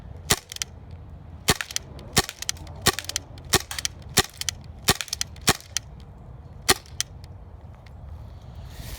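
Sharp, separate snaps from an M9 Beretta non-blowback airsoft pistol, about a dozen shots fired one at a time at an uneven pace over a quiet room background.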